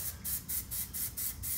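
A PlastiDip aerosol can sprays into open air outdoors in about five short, evenly spaced hissing bursts, fairly faint and with no talking.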